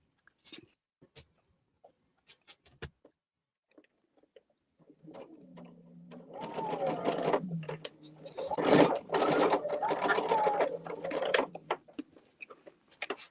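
A sewing machine runs in steady bursts of rapid stitching, close by, after a few seconds of small handling clicks and taps.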